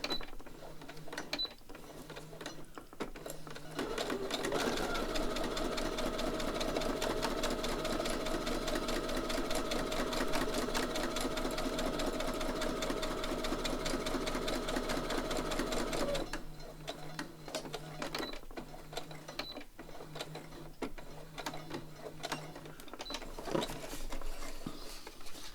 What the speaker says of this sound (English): just sew across the top of here, and then we can sew around the whole darn thing.